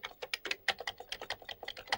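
Keys on a Sharp MZ-700 home computer clatter in quick, uneven bursts, about a dozen crisp close-up keystrokes in two seconds with no speech.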